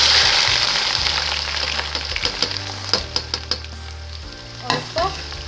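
Onions frying in hot cooking oil for a whole-spice keema, with a loud continuous sizzle up close and stirring scrapes and clinks.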